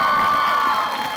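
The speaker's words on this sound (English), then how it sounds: "How about another round of applause for Lauren?" A loud crowd at a school coffee house concert cheers, whoops and shouts for a performer, a dense wash of excited voices close by that fades slightly toward the end.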